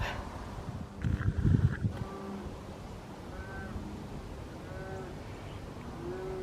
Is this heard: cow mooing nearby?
yes